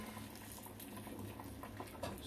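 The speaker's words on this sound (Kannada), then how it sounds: "ಒಗ್ಗರಣೆ ಇದಕ್ಕೆ ಹಾಕಿ" Tempering of spices in hot oil poured into a pot of dal palak, giving a steady close crackling, bubbling sizzle with soft patter throughout and no talking.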